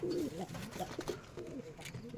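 Domestic pigeons kept for sale, including feather-footed females, coo softly at close range. Several low, rolling coos come in a loose repeated rhythm over faint background noise.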